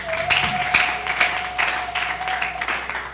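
A congregation at a church service applauds to give glory to God, sustained and fairly distant clapping with a steady tone humming underneath.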